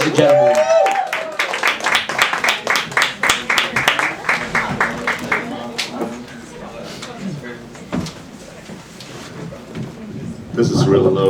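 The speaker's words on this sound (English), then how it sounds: "Let's have a big round of applause for Harry E." An open mic audience in a small venue breaks into loud clapping and cheering that swells, then fades into scattered claps and murmuring crowd noise before a voice returns near the end.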